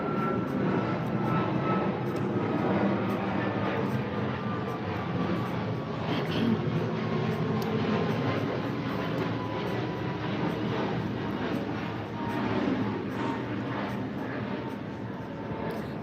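A fixed-wing airplane flies over a home near an airport, giving a steady, broad engine roar that carries through the whole stretch at a moderate distance, with faint background talk.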